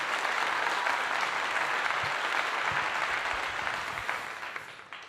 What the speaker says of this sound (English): Next round of applause for that.